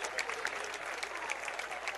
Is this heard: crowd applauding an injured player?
yes